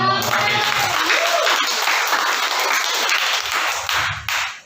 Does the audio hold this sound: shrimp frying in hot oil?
no